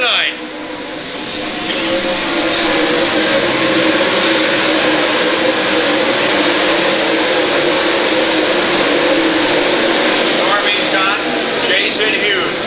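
Race car engines roar on a dirt raceway, giving a loud, continuous, dense drone with passing surges as the field runs, under an announcer's excited commentary.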